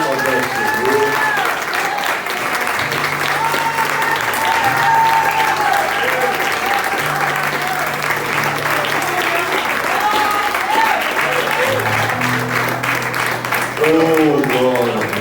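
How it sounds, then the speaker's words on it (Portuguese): Sustained loud applause from a large church congregation fills the space continuously, with a voice speaking over it in Portuguese. "Eu quero convidar a igreja a dar a melhor salva de palmas ao Senhor."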